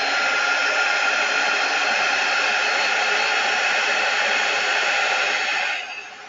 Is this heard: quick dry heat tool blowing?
yes